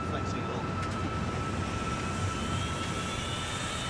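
Airliner jet engines roar at high thrust on the ground at Gatwick while the aircraft strains against its brakes, a steady, loud broadband rumble with a high whine throughout.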